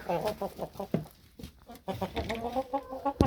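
Chickens cluck in short bursts close by, mixed with other clucks and soft rustling, with a person briefly speaking among them.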